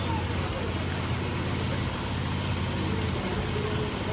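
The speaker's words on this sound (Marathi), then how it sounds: "सो आता पाऊस खूप आहे" Heavy rain pouring steadily on a tiled-roof village house in Konkan, a dense, loud, unbroken roar of falling water.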